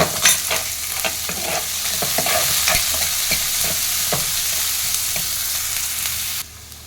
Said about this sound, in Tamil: வெங்காயம் நல்லா ஃப்ரை பண்ணிக்கலாம். அது கூடவே ஒரு 3 காஞ்ச மிளகாய் போட்டுக்கலாம்.